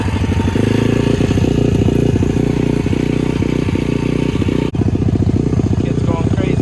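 A pit bike engine runs steadily and loudly close by with a rough, clattering idle, one of three bikes being prepped for a ride, with a brief dropout partway through and faint background voices.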